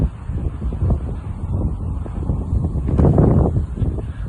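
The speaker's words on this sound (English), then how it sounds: "This is called Beacon Hill Park. Always windy here." Wind gusting through Beacon Hill Park in Victoria, Vancouver Island, a loud buffeting rumble on the microphone that rises around the middle, alone without talk.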